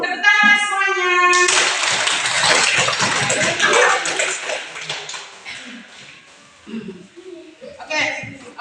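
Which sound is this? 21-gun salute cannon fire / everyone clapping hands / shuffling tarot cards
everyone clapping hands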